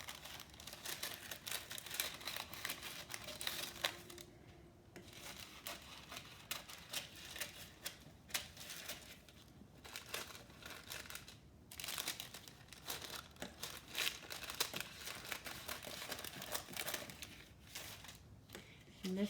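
Parchment paper is trimmed and handled while wrapping cake for freezing, giving close, dry crinkling and crackling in irregular bursts with short scissor-like snips over a faint background.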